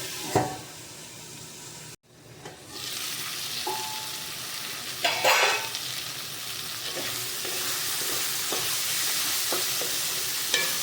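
Small local brinjal frying in a pan, a steady hissing sizzle that fades out briefly and then returns stronger, with occasional clinks and stirring noises, no talk.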